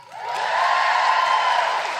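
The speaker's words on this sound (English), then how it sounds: "Give us a cheer if you're enjoying it live." A live podcast crowd in a Wellington hall roars with sustained cheering and whoops, mixed with some clapping, rising quickly and holding at full volume.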